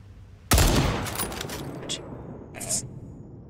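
A sharp, loud gunshot blast in the video game Second Extinction, followed by a decaying rumble and a couple of fainter later shots, with players talking over it.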